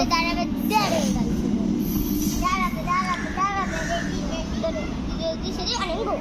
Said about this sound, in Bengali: বড় ট্রেন কেন বলে তো এটা এক্সপ্রেস ট্রেন